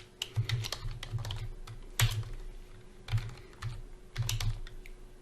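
Steady typing on a computer keyboard at close range, quick irregular key clicks in short bursts with small pauses, no voices.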